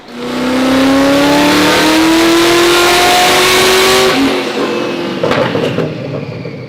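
A twin-turbo C8 Corvette engine on 9 pounds of boost roars as it revs hard and climbs steadily in pitch through a long pull, then the note drops and eases off with whooshing air.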